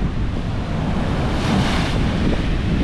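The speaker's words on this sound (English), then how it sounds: "These waves are just too big." Loud, continuous roar of ocean surf with crashing waves and heavy wind buffeting the microphone, no voices.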